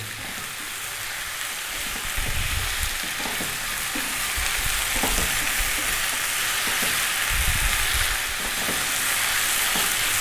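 Chicken and tofu stir fry sizzles steadily in a hot pan, a continuous frying hiss broken by repeated scraping and clattering as the ingredients are stirred and tossed, with no talking.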